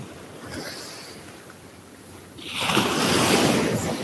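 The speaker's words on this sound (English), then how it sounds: "It's a beach in Melbourne Beach in Florida." Ocean surf rolling onto a beach at Melbourne Beach on Florida's Space Coast, a soft wind-blown wash that swells into a louder breaking wave near the end, with wind buffeting the microphone.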